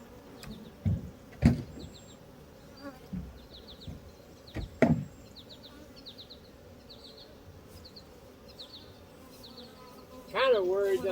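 Bees buzzing steadily close by around a hive in short repeated bursts, with a few sharp knocks and thumps mixed in.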